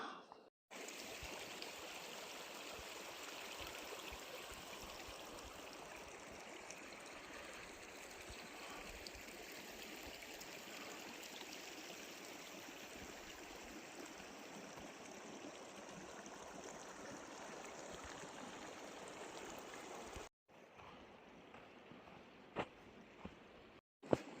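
Continuous rushing and trickling of a mountain stream running along and over a high-altitude trail near Gorak Shep in the Everest region, steady and fairly close for about twenty seconds before cutting to faint handling noise.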